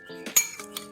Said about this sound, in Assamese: এতিয়া এইখিনি খুব ভালদৰে মিহলাই ল'ম